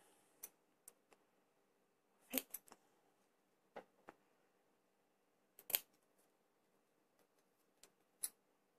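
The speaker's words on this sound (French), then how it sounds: "j'ai utilisé mes ciseaux à couture" Sewing scissors snip paper while making sweet treat boxes: a series of quiet, sharp clicks and short cuts, scattered irregularly, some in quick pairs, with near silence between them.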